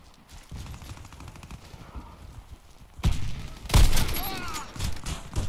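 Video game gunfire in an online shooter, bursts of rapid shots that grow louder after a quieter opening, mixed with a player's shouting voice.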